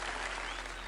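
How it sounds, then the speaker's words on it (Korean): A congregation claps for a brief moment during an online Sunday church service, giving a steady, dense burst of applause with no talking over it. "하나님께 먼저 감사의 박수 올려드려야겠죠"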